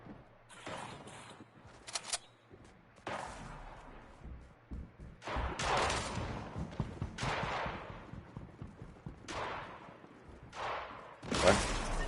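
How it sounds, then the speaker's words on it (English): Tommy gun firing in Fortnite, heard as several short bright bursts separated by quieter stretches of game noise, fairly faint overall and without talk. "Yeah, Tommy gun."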